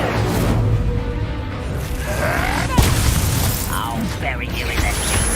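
A fire spell cast in the Hogwarts Legacy video game bursts out with a sharp boom and crackling magical whoosh, layered over dense mechanical game effects and rumbling background score, with a voice calling out before it.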